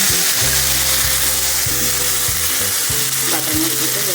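Whole spices such as cardamom, cinnamon and bay leaf dropped into hot oil, a loud continuous sizzle and fry close up with a few stirring knocks.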